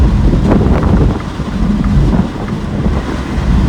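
Steady, loud broadband wind roar buffets the microphone of a 2025 MINI Cooper S Convertible driving with its roof down, rising and dipping slightly throughout with no voices.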